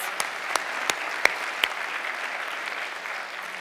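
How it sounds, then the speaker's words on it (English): Steady applause from a parish summit audience, with a few sharper claps standing out early on before the clapping settles into an even wash. "Let's give them another round of applause."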